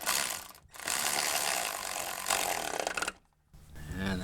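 A ratchet socket wrench turning a 10mm bolt during water pump and serpentine belt work on a Dodge Durango 4.7L V8, loud rapid clicking of the pawl in bursts, close by, broken by a brief pause.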